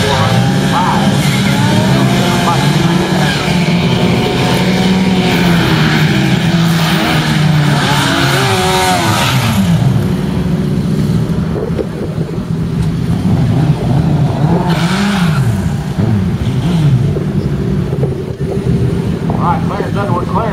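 Drag racing motorcycles accelerate down the track with a loud, roaring engine note that sweeps up and down through the gears, while an announcer talks over it throughout.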